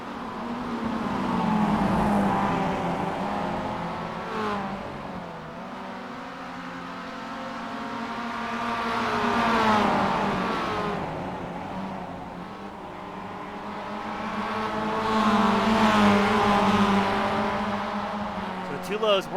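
Spec Miata race cars scream around a track, engines rising and falling in pitch as they accelerate and pass in waves, mid-distance, with a commentator talking over the racing.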